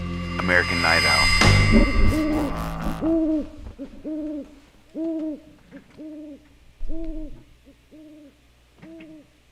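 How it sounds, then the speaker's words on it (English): A single owl hoots in a steady run of about ten repeated calls, each a short, mellow double-toned hoot spaced evenly apart, fairly close and clear, following a brief burst of loud music at the start. "American Night Owl."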